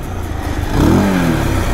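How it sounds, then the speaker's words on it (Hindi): A motorcycle engine revs loud and close during wheelie stunt practice at a bike stunt training ground, its pitch sweeping up then easing off in a steady rough drone. "ये देखो बाबा व्हीली पॉपअप हो रही प्रॉपर"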